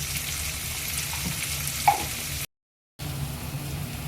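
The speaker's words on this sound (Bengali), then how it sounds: "পেঁয়াজ কুচিটা লাল করে ভাজবো" Oil sizzles steadily as chopped onions with a little sugar fry in a pan until browned, with a brief stir sound; the sizzling cuts out for a moment, then resumes.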